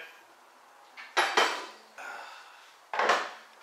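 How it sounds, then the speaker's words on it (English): Pot roast and vegetables dropped into a pan, producing a few sharp metallic clatters and scrapes in separate bursts, close and fairly loud with quiet gaps between. "So I'm going to put all that in the pan."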